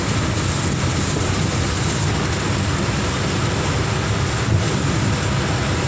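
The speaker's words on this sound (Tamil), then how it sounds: "இந்த மாதிரி மழை பெஞ்சிச்சுன்னு வைங்களேன்" Heavy rain pours steadily during a thunderstorm on the road from Chennai to Krishnagiri, a loud, dense, unbroken hiss with a faint low rumble beneath, no voices.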